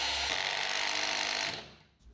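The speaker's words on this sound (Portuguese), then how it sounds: "Depois fui parafusando cada um dos suportes do meio" A power drill drives screws into the middle supports of a staircase handrail, giving a steady high whine for about a second and a half before it cuts off.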